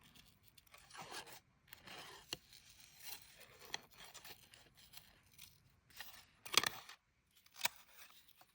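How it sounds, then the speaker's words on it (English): Spring-loaded scissors cut fabric for jewelry making. Quiet snips and scraping rustles come in short, irregular strokes, with a louder sharp cut near the end and no talking. "Especially if you have the spring-loaded scissors."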